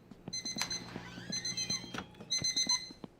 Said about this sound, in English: that alarm is loud